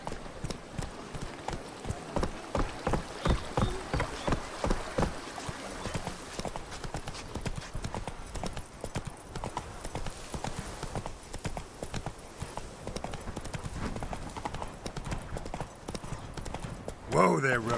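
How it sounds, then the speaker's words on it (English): A horse gallops in a video game, its hooves clip-clopping in a fast, steady rhythm that slows toward the end, with speech heard faintly over it. "Whoa there, Roach. Giddy up"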